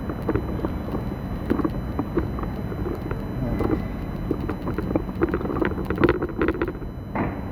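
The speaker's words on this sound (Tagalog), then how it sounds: "Daming jet ski oh." Jet skis on the sea, heard as a steady broadband engine and water rumble under gusty wind buffeting the microphone, without clear individual passes.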